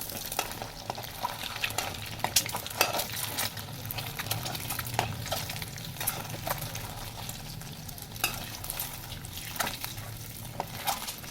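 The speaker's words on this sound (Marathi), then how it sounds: "पहा हा अशा प्रकारे अंडी तेलात परतून घ्यायचं" Eggs frying in oil, a soft continuous sizzle at moderate distance with scattered light clicks and scrapes of stirring throughout, fairly quiet and with no voices.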